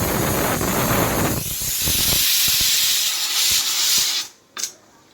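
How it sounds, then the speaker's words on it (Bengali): A pressure cooker cooking rice vents a loud, steady hiss of steam that suddenly cuts off near the end, followed by one short final burst. "এখানে হচ্ছে প্রেসার কুকারে এই যে ভাত, সেদ্ধ ভাত।"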